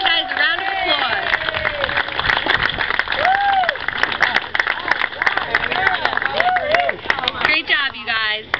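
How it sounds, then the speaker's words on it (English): An outdoor crowd at a Relay for Life opening ceremony claps and cheers for a fundraising team, lively scattered applause mixed with chatter and a voice over the noise. "Give you guys a round of applause."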